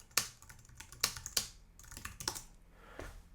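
Keystrokes on a computer keyboard as a chat message is typed in Office 365 Teams, a few sharp clicks then a lighter run of taps, close and fairly quiet with no voices.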